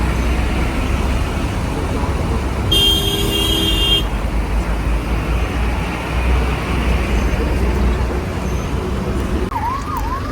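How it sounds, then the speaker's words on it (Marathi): Dense traffic jam after an accident between a car and a motorbike, with a continuous roar of engines, a few horn toots and a passing siren-like tone, heard close amid the street noise. "इथे झालेला आहे ऍक्सिडेंट आणि त्याच्यामुळे झालेला आहे ट्रॅफिक जाम"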